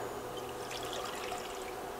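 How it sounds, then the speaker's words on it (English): Two cups of water poured into a medium saucepan, a steady close splashing stream throughout. "I'm going to place 2 cups of water into the pot"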